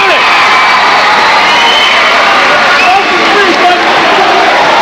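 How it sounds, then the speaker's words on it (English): A 1980s high school basketball crowd cheering and yelling loudly in a gym, a continuous roar of shouts and whoops with play-by-play commentary running over it. "Crowd loves it because they hate the delay game. They're yelling boring."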